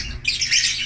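A pair of African lovebirds gives sharp, close squawks, one short burst followed by a longer harsh call, loud and alone.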